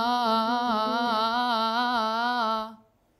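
A single sung vowel held on A4 with quick, even vibrato oscillation, a bright sustained tone for nearly three seconds before cutting off into silence.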